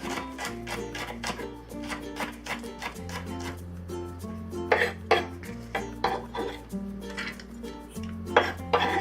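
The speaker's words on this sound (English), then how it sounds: "And we'll mince the green onion." Knife mincing green onion on a cutting board, rapid uneven chopping taps with sharp clicks, over a steady low background hum of music.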